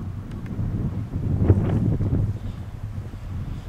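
Steady wind gusting around an old railway trestle on the Port Arthur, Duluth and Western line in Minnesota, a low, continuous rushing roar swelling slightly in the middle, with faint rustling and no talk.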